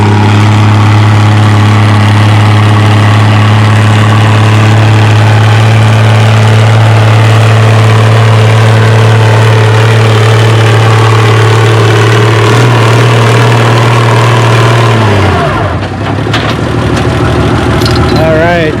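Tractor engine at the Othello Spring Nationals tractor pull, a steady loud low drone with heavy harmonics for about fifteen seconds before cutting off, with an announcer talking over it.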